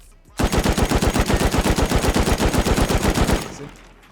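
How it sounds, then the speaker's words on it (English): A light machine gun is hip-fired in the video game The Division, one sustained burst of rapid, evenly spaced shots lasting about three seconds, loud and close, then cutting off abruptly. "It might be easier to see with a shotgun of some kind, or something like an LMG and hip firing."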